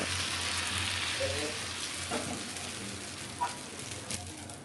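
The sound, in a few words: appam batter sizzling as it is swirled in a hot oiled kadai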